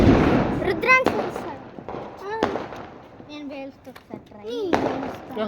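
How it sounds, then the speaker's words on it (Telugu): Cat bomb firecrackers burst in a series of sharp pops and thuds outdoors, with children chattering and calling out over and between the blasts. "cat bomb వేలుస్తున్నా"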